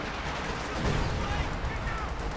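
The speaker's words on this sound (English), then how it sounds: "we've got an artillery strike here from the Major, trying to break up the Germans" An artillery strike lands in the World War II strategy game Company of Heroes 2: a dense, continuous roar of booming blasts and rumble, loud and unbroken throughout.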